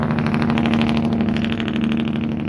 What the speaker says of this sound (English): Sorry about the noise, it's on a pretty busy road here.